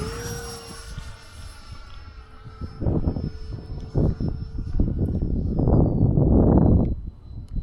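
An E-flite Habu XS 80mm RC electric ducted-fan jet flies a fast pass at about 100 mph, its high whine rising and falling in pitch, with loud rushing bursts of wind noise as it roars by.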